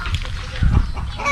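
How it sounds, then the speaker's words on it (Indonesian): Ducks on a Filipino family outing give short nasal quacks and honks close by, mixed with background voices and a bit of splashing. "Guys, may itik, itik, itik, itik, pato, itik."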